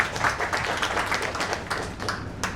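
An audience at a temple stage event gives a burst of continuous applause, many hands clapping at moderate distance without a break, with faint voices mixed in.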